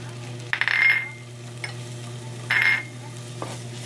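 Garlic, ginger and shrimp paste sizzling in a pan, with two short bursts of frying hiss as ingredients are stirred in over a steady low hum, plus faint utensil clicks.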